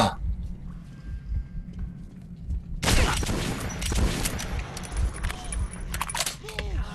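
Gunfire in Metro 2033, a sudden loud burst of dense shooting that keeps going in sustained volleys over a low rumbling backdrop, close and harsh, with no talking over it.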